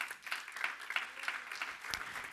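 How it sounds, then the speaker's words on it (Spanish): A church congregation claps along during a Spanish-language sermon on baptism, a steady spread of hand claps at moderate distance filling the moment, with no speech over it. "Dale palmas al Señor."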